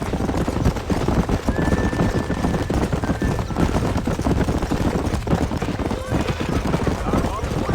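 Horses trotting and neighing in the Western video game Red Dead Redemption, with steady hoof clatter and ranch ambience under a voice speaking throughout.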